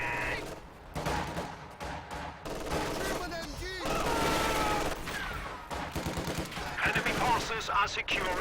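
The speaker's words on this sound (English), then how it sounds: "Looks like he's sniping away at these greens in the church." Sniper rifle shots in a Company of Heroes 2 multiplayer battle near a church, sharp cracks within dense, continuous battlefield gunfire and explosions, with a voice speaking over the din.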